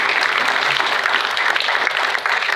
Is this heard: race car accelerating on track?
no